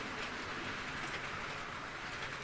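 A model train running on its track, a faint steady rolling rattle of wheels, continuous and even throughout with no talk.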